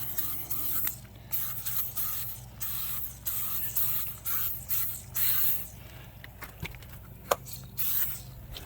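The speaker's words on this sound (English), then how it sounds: "use some turtle wax tire foam, spray that on tires" Repeated hissing bursts of Turtle Wax tire foam sprayed onto tires, several long sprays then shorter ones, close by in a garage with no talking.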